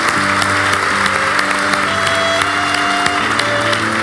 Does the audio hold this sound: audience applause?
yes